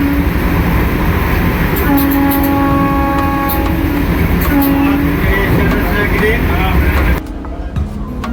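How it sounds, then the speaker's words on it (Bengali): A Vande Bharat train arriving at Dumka railway station: a loud continuous rumble with several sustained horn tones, voices and crowd noise mixed in, before the sound drops sharply near the end. "আমাদের ট্রেন এখন এসে পৌঁছেছে ডুমকা রেলওয়ে স্টেশনে"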